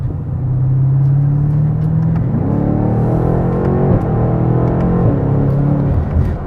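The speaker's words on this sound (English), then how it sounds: "that was full noise in terms of the exhaust" A BMW 8 Competition Coupe accelerates hard with traction control off in rear-wheel-drive mode, its engine and exhaust rising in a loud, continuous roar that climbs in pitch through several gear changes with no voices.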